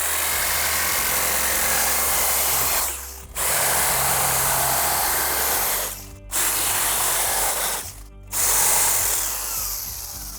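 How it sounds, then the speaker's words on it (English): A jigsaw cuts triangular shapes for an adhesive tape rack in a prop shop, giving a loud, continuous buzzing drone that stops briefly three times before resuming. No one speaks. "And then I can cut those out on the jigsaw."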